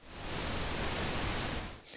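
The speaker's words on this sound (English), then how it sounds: "I can see that I have pink noise" A pink noise test signal runs through a Behringer Wing mixing console over a Dante network with a Yamaha Tio1608-D stage box. It is a steady, even broadband hiss at moderate level that holds for almost two seconds, then cuts off abruptly.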